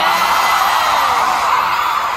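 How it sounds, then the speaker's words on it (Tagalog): A dense concert crowd screams and cheers continuously at a finale show, a loud, sustained wall of high-pitched shouting with no breaks. "Oh, ang lakas ng mga sigaw talaga."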